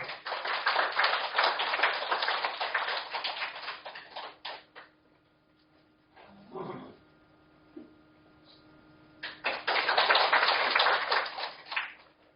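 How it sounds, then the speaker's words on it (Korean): An audience applauds to welcome the host at a book launch for a history of Incheon books: a long, dense burst of clapping, a quieter pause with a brief voice, then a second strong wave of applause. "여러분 박수로 맞이해 주십시오."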